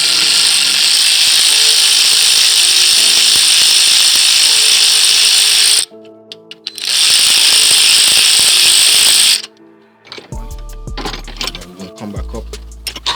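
Loud, continuous whirring of an air tool spinning out spark plugs from a Hellcat engine, running in two long bursts with a short break, then stopping as ratchety clicks and handling noises follow.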